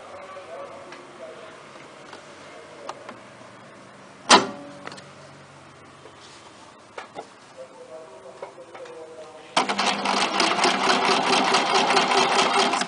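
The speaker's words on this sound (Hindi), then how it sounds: "तो चलिए पहले ये जो हमारा कोल्ड शोल्डर वाला पार्ट है, पहले उसको सिलना स्टार्ट करते हैं।" A sewing machine stitches the curved cold-shoulder section of a long gown with lining fabric, first as scattered faint ticks and clicks, then a loud, steady rapid run of stitching through the last few seconds.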